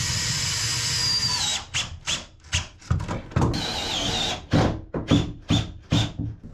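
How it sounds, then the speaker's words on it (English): A power drill drives lag bolts into the wooden sole beams of a boat, a loud steady whir for the first second and a half, then a run of short drilling bursts with squealing starts and stops. "replacing the screws in the sole beams with lag bolts"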